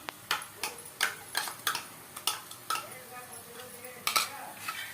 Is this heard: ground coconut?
yes